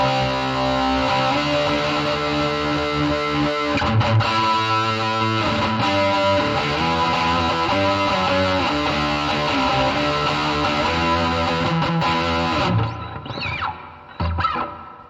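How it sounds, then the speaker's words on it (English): A distorted electric guitar through a real amp with Amplitube plays a steady riff drenched in reverb, then cuts off, leaving a washy echoing tail that fades out. "That's really much reverb."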